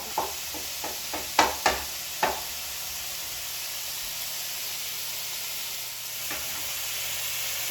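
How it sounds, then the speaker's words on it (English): Bacon rendering in a frying pan gives a steady soft sizzle and hiss, with a few sharp pops and clinks near the start, maybe from a utensil against the pan, then a continuous even fry with no talking. "We've got our bacon all set up. Bacon's rendering"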